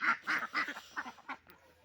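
Geese honk in a quick irregular series of nasal calls, about eight in under two seconds, moderately close and fairly faint, during a morning walk in a rural village.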